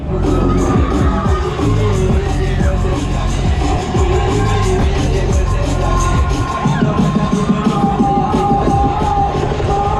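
Riders on the EnteR amusement ride at Southend on Sea scream, yell and cheer loudly over a mechanical rumble, a dense continuous crowd roar with whoops rising above it.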